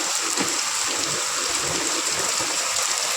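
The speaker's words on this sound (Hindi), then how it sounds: "बूंदे पड़ रही यार ऐसे दिख रही, देखो।" Rain drops fall in a steady, dense hiss with faint scattered patter, continuous and fairly loud throughout.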